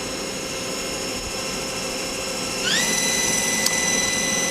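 Star SV32J CNC Swiss lathe main spindle running at 2,000 RPM, a steady close mechanical whine and hum that steps up in pitch partway through and then holds, with a brief click near the end.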